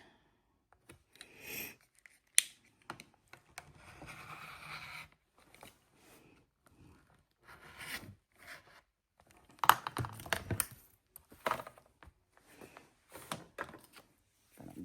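Quiet, intermittent crisp snipping and crinkling of scissors cutting leather, in short bursts with pauses between, close by and fairly soft.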